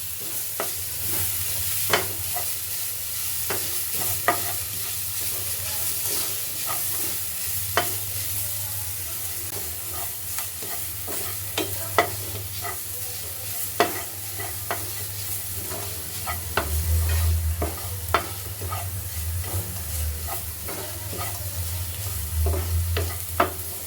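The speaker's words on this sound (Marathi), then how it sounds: "पाच मिनिटासाठी आपण हे सर्व काही छान परतायचं आहे, जेणेकरून ते थोडंसं शिजेल" A rice tikki mixture sautéed in a pan, with a steady soft sizzle under repeated sharp scrapes and taps of a spatula against the pan, close and continuous with no talking.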